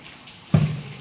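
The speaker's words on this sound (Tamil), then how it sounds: "அதில் கொஞ்சம் தண்ணி இருக்குது, அந்த தண்ணியோட சேர்க்குறோம்." Boiled white chickpeas tipped into a pan of chenna potato masala along with their cooking water, a single close liquid splash and pour that swells suddenly and trails off over a second.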